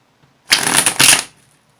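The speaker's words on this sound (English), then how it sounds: "I always shuffle the cards until they're just right." A quick riffle of tarot cards being shuffled, a brief crisp flutter in two bursts, close and clear.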